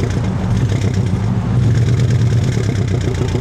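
A 2004 Pontiac GTO with an LS1 V8 and automatic transmission pulls away hard in first gear, giving a steady, loud, dense engine roar throughout with no voices.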